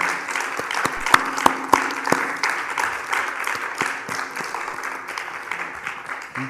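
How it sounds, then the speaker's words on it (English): An audience claps steadily for a panel discussion, with a few sharp, loud claps standing out over the dense patter of applause. "Let's give a round of applause to all our panelists"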